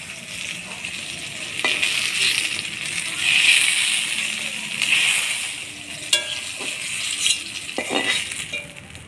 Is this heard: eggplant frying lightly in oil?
yes